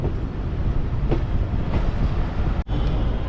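A commuter train running between Joydebpur and Dhaka rumbles steadily from inside the carriage, a loud continuous roar with rattling undertones and a brief dip near the end; no one speaks.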